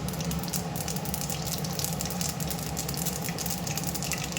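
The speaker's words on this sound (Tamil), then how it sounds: "கடுகு வந்து நல்லா பொரிக்கட்டும்" Mustard seeds spluttering in hot oil as the base for a spicy mushroom gravy, a steady fizzy sizzle dotted with faint pops, low in level and heard without any talk.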